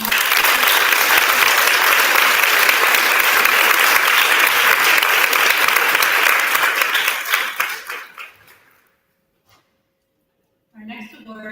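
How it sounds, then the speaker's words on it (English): A room of guests at a public health team recognition lunch gives a loud, sustained round of applause that holds steady for several seconds, then tapers off into near silence before a voice begins speaking. "We do a round of applause for the team."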